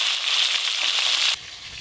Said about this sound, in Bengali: একদম হালকা করে ভেজে নেব।